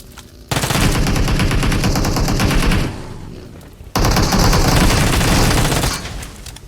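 Dual Uzis firing in a Turkish-played mobile battle royale match, two long, rapid bursts of close, loud automatic gunfire separated by a brief pause, each burst rattling continuously for several seconds.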